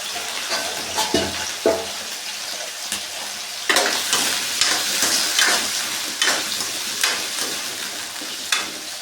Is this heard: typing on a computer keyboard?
no